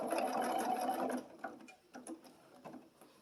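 A sewing machine stitches a blanket stitch on a quilted table runner, running in a steady close whir for about a second, then slowing into separate, irregular needle thumps.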